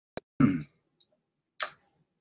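Computer mouse clicks while setting up an Eventbrite event on Facebook: a sharp isolated tick, a brief burst, then one more crisp click, with quiet gaps between.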